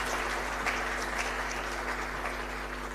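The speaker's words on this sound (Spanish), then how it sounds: "Un fuerte aplauso para ellos" A church congregation applauds youths receiving first communion, a continuous, even patter of many hands clapping in a chapel, with a low steady hum underneath and no voices.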